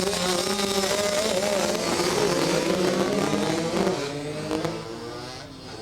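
Flat track racing motorcycles, including Suzuki, Kawasaki and Honda machines, race past together at a club meet. Engines snarl and rev in overlapping waves at a loud level, then fade slightly as the pack moves off.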